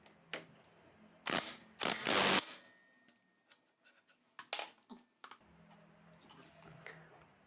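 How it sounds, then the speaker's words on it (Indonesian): A size 22 socket wrench tightens the rear pulley nut on a 2021 Honda Scoopy scooter, giving a few sharp ratcheting clicks and metallic knocks, close and fairly loud, with quieter handling noise between them. "ini menggunakan kunci sok ukuran nomor 22 untuk mengencangkan ataupun mengendorkannya"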